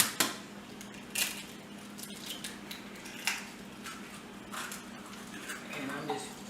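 Three eggs being whisked for an omelet, quick irregular metallic taps of a whisk against a bowl, moderately near, with brief pauses between bursts.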